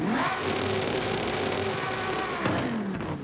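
A Lamborghini Huracan Super Trofeo in Forza Horizon 5 is held on the rev limiter, giving a loud, close, buzzing engine note. The pitch dips and surges back once near the end, with no voices.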